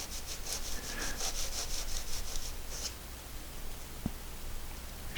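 Two glued wood boards are rubbed together in a rub joint for woodturning. A close, steady scraping and rubbing texture has rhythmic strokes early on, then a continuous grinding friction with a single faint knock.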